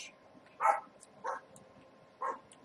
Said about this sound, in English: Ignore the barking